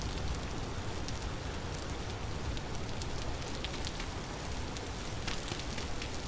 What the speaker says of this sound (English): The rain giveth, the rain also taketh away.